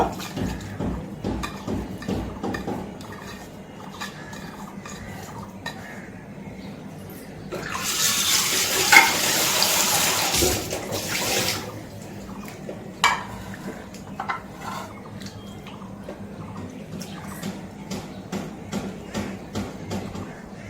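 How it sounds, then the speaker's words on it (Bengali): Tap water runs into a bowl as dried small fish are rinsed by hand, a steady splashing stream swelling loudly for a few seconds in the middle, with softer swishing and sloshing of water and fish before and after, close by. "আরও একবার পরিষ্কার জল নিয়ে নিলাম আর এই করে আরও একবার ধুয়ে নেব"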